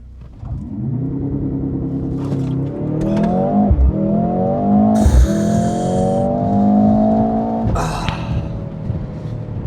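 A 2025 Mercedes-AMG GLC 63 S E Performance launches in race mode, its engine roaring hard through rising revs, with quick gear shifts cutting the pitch before it climbs again, loud and close.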